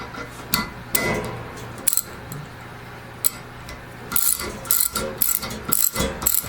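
A ratchet clicks in short bursts while bolts are snugged down on an Ariens ST824 snowblower during auger bearing work, close and sharp, with pauses and a busier run of clicks toward the end.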